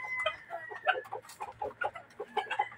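Roosters cluck nearby in short, quick bursts of soft, uneven calls, with a low hum running underneath.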